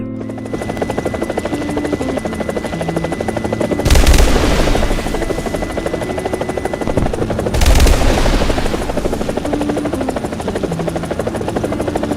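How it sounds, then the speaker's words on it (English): An Italian A-129 Mangusta International military attack helicopter, with a steady, close rotor thrum throughout and two loud bursts of fire that each last under a second. "here we are with the A-129 International, an Italian helicopter"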